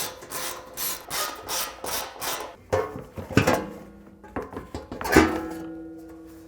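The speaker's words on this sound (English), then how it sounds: "use a 12mm socket on our ratchet to loosen up the bolts holding the skid plate on" A 12mm socket on a ratchet loosens the skid plate bolts on a 2005-2020 Toyota Tacoma. A quick run of close, rhythmic ratcheting clicks is followed by a few sharper metallic knocks and scrapes, with no talking.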